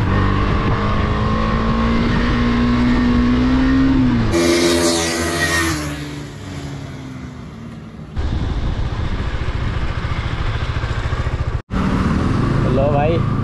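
A KTM Duke 250 motorcycle accelerates close by, its engine note climbing in a rising whine before cutting off abruptly, then a steady rumble follows with wind noise and a brief dropout.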